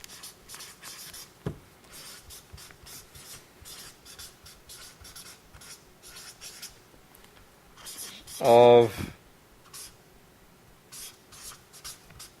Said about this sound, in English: I'm going to write it down here